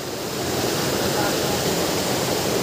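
Deep river water rushes past in a loud, dense, continuous roar close at hand, with no break or change.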